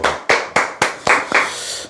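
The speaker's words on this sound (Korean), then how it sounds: "네, 박수." Six crisp, loud hand claps in a steady rhythm from an audience at a telemarketing and insurance sales coaching session, close by and with no talk.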